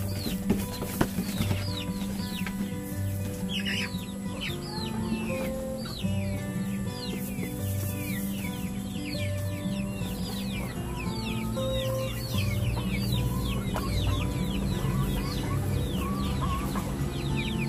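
Breeder chickens cluck and chatter continuously nearby, with scattered calls and a few wing flaps, no voices over them.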